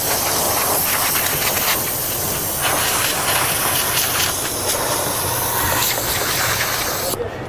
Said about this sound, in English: I can come in with my steam